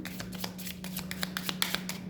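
Tarot cards being drawn and shuffled from a deck, with quick papery flicks and soft snaps in an irregular rhythm, close and fairly quiet over a steady low hum.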